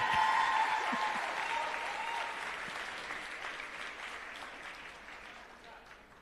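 An audience at a scholarship awards ceremony claps, a burst of applause that starts full and gradually thins and fades over several seconds, heard from within the hall.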